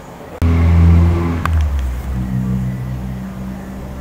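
A pickup truck engine turns over and settles into a loud, close idle, holding a deep steady rumble for several seconds with a brief surge partway through.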